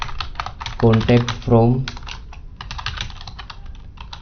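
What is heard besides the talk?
typing on a computer keyboard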